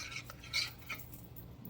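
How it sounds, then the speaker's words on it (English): A mixture with mushroom soup mix being stirred in a pot, a few light metallic clinks of a utensil against the pan, close and soft, with no talk. "Give that all a good stir."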